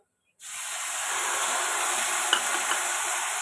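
A ground spice paste of ginger and chili, with Kashmiri and regular chili powder, hits a hot pan for a banana-flower kofta curry and fries in a loud, steady, close hiss that starts abruptly and runs on without talk.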